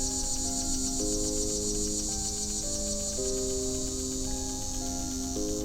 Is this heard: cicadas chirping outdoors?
yes